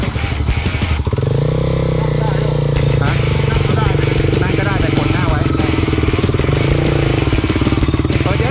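A Honda CRF250L dual-sport motorcycle engine revs hard and holds high rpm on an enduro trail. The drone is loud and close, with a brief dip near the start, and voices speak over it.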